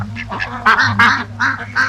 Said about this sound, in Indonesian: Seru juga ada bebek.